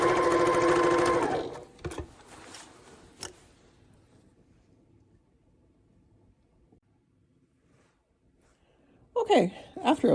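A sewing machine runs in a steady mechanical whir for about two seconds while stitching box corners on fabric, then stops, leaving faint clicks and handling noises before a voice speaks at the end.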